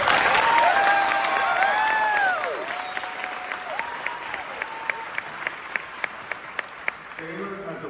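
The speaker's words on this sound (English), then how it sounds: "Please give a round of applause to our valedictorian this evening" An audience at a school graduation ceremony applauds the class valedictorian, a dense burst of clapping that fades after a few seconds into scattered claps, with a voice speaking briefly near the end.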